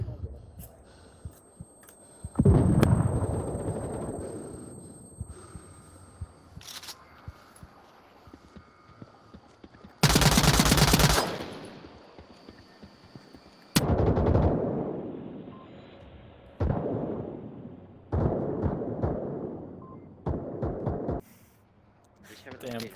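Gunfire in the VR shooter Onward: sharp broadband bursts of shots at intervals, one loud burst near the middle, with players talking over the action throughout.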